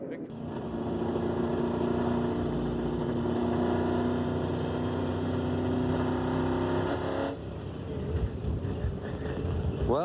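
An IRL race car engine during the 1999 season, heard onboard as a loud sustained multi-tone drone that suddenly drops off as the throttle comes on and the car spins, with a commentator talking over it.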